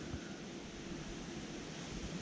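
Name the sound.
wind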